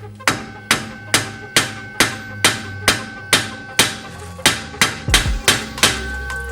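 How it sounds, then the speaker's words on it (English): Sharp metallic hammer strikes knock against a stuck bolt on a Subaru rear toe arm, about fourteen loud ringing blows at a steady, slightly quickening pace, each with a short decaying ring. "You can put a extension on the end and hammer it out"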